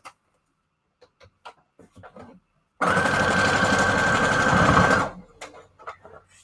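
Sewing machine running a straight stitch through strips of paper scrap, a loud steady mechanical whir held for about two seconds, with quiet handling sounds and rustling before and after.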